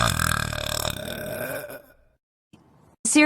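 An animated cartoon girl lets out a long, loud, rumbling burp up close, trailing off into silence before a brief noise at the end.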